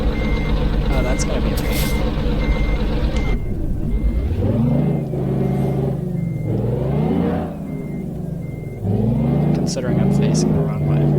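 Steady, loud reversing beeps from a truck in a truck driving video game repeat over a revving engine that rises and falls, while a person talks over the top.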